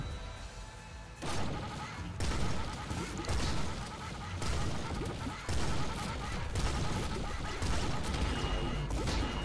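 A double frost shotgun firing in the Nuclear Throne Ultra Mod video game: a dense, loud run of crunching blasts and impacts repeating every second or so over a busy game soundtrack.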